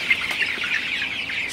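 Broiler chickens on a poultry farm in hot weather, clucking and chirping steadily at close range in a short continuous chorus, with no talk.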